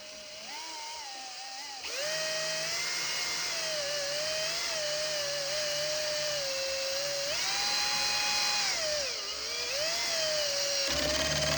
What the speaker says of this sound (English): Let's put the Makita back to 1. And we'll get a screw started here.